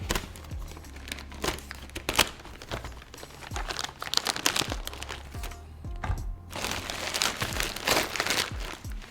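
Packing paper crinkling and crackling in irregular bursts, close by, with sharp crisp snaps and rustles as it is scrunched and pulled while unboxing a coffee storage container.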